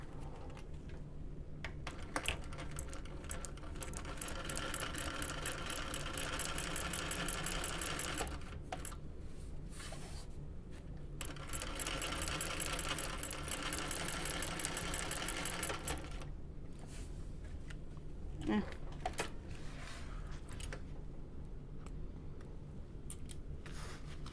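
A sewing machine top stitching a fabric bucket bag near its zipper, running in fast steady bursts with brief pauses between runs, close and fairly quiet, with no talking.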